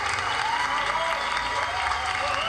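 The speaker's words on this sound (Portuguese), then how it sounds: "No fim do show, artistas e bonecos foram aplaudidos de pé no Teatro Carlos Gomes." A theater audience gives a standing ovation at the end of a puppet and music show, a steady, dense wash of clapping that holds at an even level for a few seconds.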